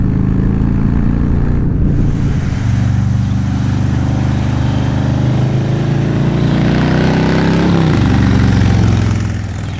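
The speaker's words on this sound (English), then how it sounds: "This motor is meant to go fast in short bursts and sound amazing doing it." A Harley-Davidson Low Rider S motorcycle with its 114 engine runs steadily for about ten seconds, a loud, close, deep rumble that holds an even throttle throughout and eases off slightly near the end.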